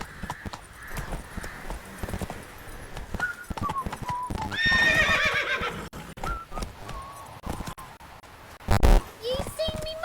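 Horse hooves clip-clopping at a gallop in The Witcher 3, a rhythmic pounding with a neigh and a whinny cutting through, heard up close alongside game voices and effects.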